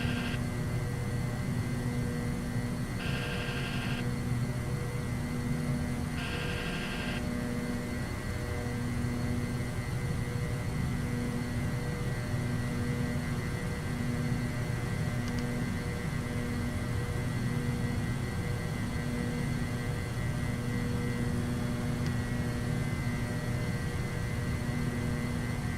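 An MD-82 jet airliner climbs after takeoff in Microsoft Flight Simulator, giving a constant steady engine drone and hum with two brief cockpit tones early on, and no voices.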